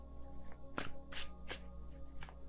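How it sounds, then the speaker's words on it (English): Tarot cards shuffled by hand in a riffling, irregular rhythm, with several sharp crisp bursts of flicking cards standing out above a steady low background hum, close and fairly quiet. "I can shuffle this deck."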